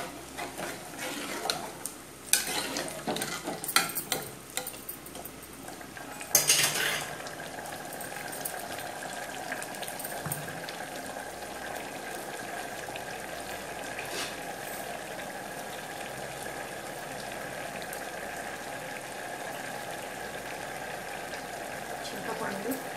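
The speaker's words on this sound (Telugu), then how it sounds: "టమాటా కూడా వేసేస్తాను" Chopped tomato dropped into a hot frying pan and stirred, a burst of clattering and stirring scrapes followed by a steady loud sizzle that continues, with a voice speaking at the start.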